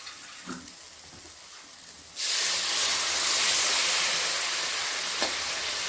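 Water poured into a hot, dried-out tadka for an aloo soyabean sabzi bursts into a loud, sustained sizzle and bubbling hiss partway through, after a quiet start, with no talk.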